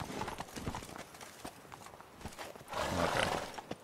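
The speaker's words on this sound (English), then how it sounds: "They brought horses too." Horses clip-clopping in The Witcher 3: Blood and Wine, their hooves a steady run of close, fairly loud clopping with a whinny, and a louder burst of movement near the end, with no talk over it.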